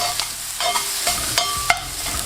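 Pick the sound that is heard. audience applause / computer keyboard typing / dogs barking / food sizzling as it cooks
food sizzling as it cooks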